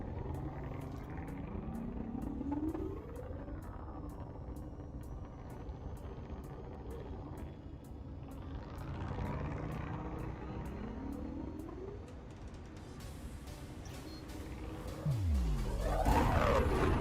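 A spaceship lifts off from a planet surface in a space game, a rumbling engine roar with rising and falling sweeping tones that swells louder toward the end, alone with no talk.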